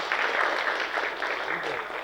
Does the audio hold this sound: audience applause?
yes